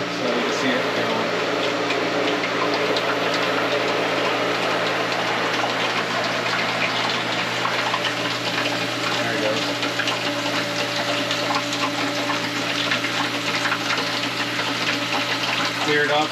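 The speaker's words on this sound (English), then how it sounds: "You can hear air at the top of the filter" A pool pump pushes water mixed with air through a DE filter in a steady, loud gushing rush with a constant mechanical hum, unbroken throughout.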